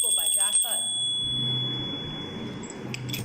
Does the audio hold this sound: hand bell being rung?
yes